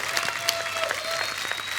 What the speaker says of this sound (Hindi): जोरदार तालियां एक बार चंकी सर और शक्ति सर के लिए।